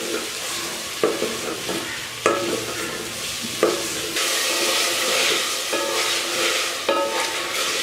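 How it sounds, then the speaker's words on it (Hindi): Chicken frying in a hot pan, a steady loud sizzle broken by periodic scraping clunks as a spoon stirs the pieces around, close up with no voices. "अब मैं इसमें चिकन की बुनाई तकरीबन 4 मिनट तक करूँगी।"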